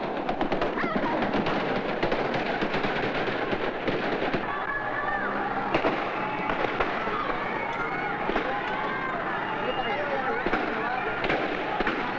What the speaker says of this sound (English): Suddenly, without any warning, the military opened fire.